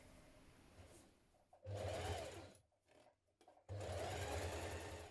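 A sewing machine hems the sleeve of a knit dress, whirring loudly in two sustained bursts with a brief pause between, close by and without talk.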